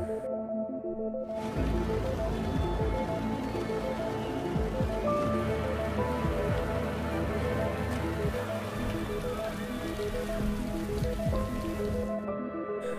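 Steady rain pours down in a film scene about a deadly rain-borne virus outbreak, a dense continuous hiss of drops on surfaces, loud and unbroken with no voices, under a dark musical backdrop.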